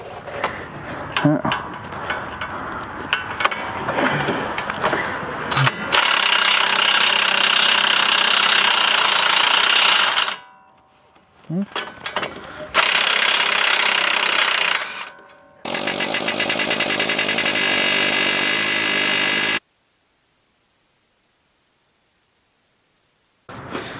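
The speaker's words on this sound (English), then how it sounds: "I can just blast this off with an impact gun" An impact gun hammers at the control arm bolts on a 2006-2010 Ford Explorer, firing three loud, close, sustained rattling bursts separated by short pauses, after several seconds of lower mechanical noise.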